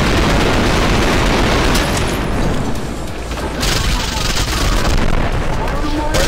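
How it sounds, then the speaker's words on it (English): Loud, dense explosions and booming blasts from the shooter game Trepang2 fill the whole stretch, a continuous roaring wash of noise with brief bursts layered on top. "Why are the explosions in this game so loud?"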